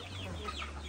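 Chickens on a farm give brief, soft clucks over a constant low hum in a short moment.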